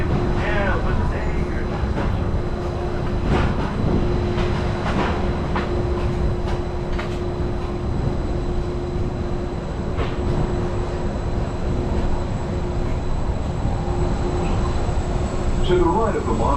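Disneyland monorail on its Grand Circle Tour: a steady, loud rolling rumble with a constant motor hum and occasional faint clicks from the track, heard from on board for the whole stretch.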